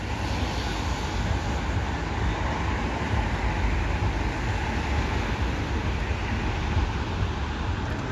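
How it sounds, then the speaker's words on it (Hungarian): A tram departs at night in Budapest, rolling away with a steady low rumble and wheel noise, a constant dense roar with a faint high whine above it. "megörökítjük, hogy kihalad a villamos"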